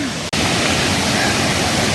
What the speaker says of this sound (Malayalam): but finally we reached the super വെള്ളച്ചാട്ടം